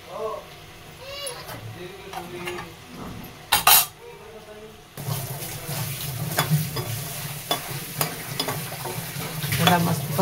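Garlic, mace and a chili sizzle as they are sautéed in a pan, with a steady frying hiss under scraping and clinking from a stirring utensil against the metal. A voice talks over parts of the cooking.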